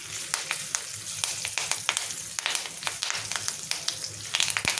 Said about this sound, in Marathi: नंतर कढीपत्त्याची पानं चांगले भाजून घ्यायची. तेलात परतून घ्यायची.